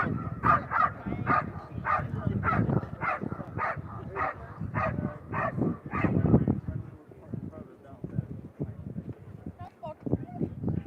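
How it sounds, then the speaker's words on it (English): A dog at a Mondioring world championship trial in Portugal barks repeatedly in a steady, rhythmic series to signal a hidden decoy, moderately distant, with crowd or handler voices underneath and the barks thinning out toward the end. "And now you hear the dog signaling the presence of the decoy."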